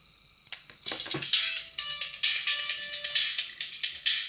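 Crude one-bit melody driven through an amplifier built from relays, a buzzy, clicking tune of rapid repeated notes that starts after a brief click and keeps pulsing loudly with no talk.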